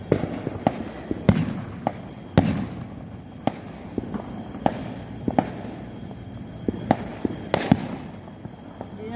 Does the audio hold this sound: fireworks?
yes